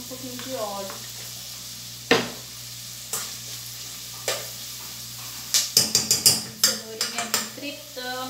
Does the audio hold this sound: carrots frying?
yes